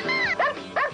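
A dog barks in a 1997 movie trailer, giving two or three short, sharp yelping barks in quick succession, close and clear.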